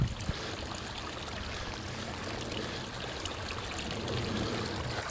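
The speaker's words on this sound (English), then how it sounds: "creates a nice steady stream of water instead of a rushing pool" Irrigation water runs steadily down a ditch in a sugar beet field, a constant, even trickling flow heard close and alone throughout.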